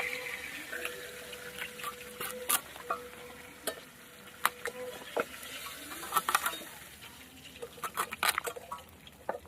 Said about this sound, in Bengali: এবার আমি দিয়ে দেবো পেঁয়াজ কুচি পেঁয়াজের সাথে আরেকটু ভেজে নেবো